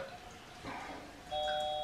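A faint electronic doorbell chime sounds near the end, a clear sustained tone over quiet room background.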